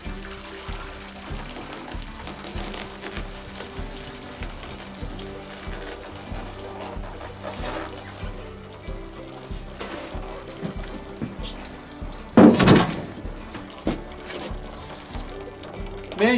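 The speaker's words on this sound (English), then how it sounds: "get ready to transfer from this boiling pan into the finishing pan" Hot maple syrup pours from a boiling pan through a felt filter into a finishing pan in a backyard sugaring setup, a steady soft trickle and splash running throughout with a brief louder clatter near the end.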